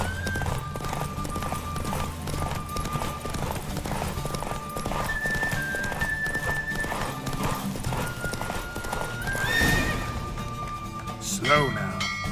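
Steady rapid hoofbeats of a galloping horse in The Witcher 3 run throughout over a constant rumble, with a sharp whinny near the end.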